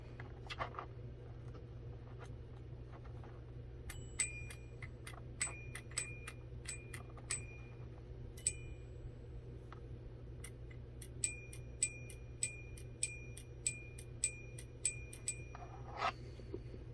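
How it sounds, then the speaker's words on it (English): Quiet, bright metallic dings from a small copper striker hitting the bell inside a Hyundai car chime module, in two runs of evenly spaced strikes over a low hum. "So as you can see the little copper thing smacking the bell."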